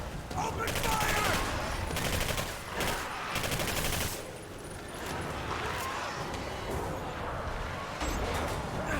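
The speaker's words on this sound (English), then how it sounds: "Open fire!" Gunfire in a Call of Duty style video game shootout, rapid overlapping bursts of automatic fire and shots that come loud and close at first, then thin into scattered, quieter firing, with some voices mixed in.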